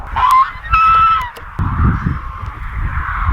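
Geese honking loudly in a few harsh bursts up front on a farm, then a steady rumbling outdoor background of wind and movement.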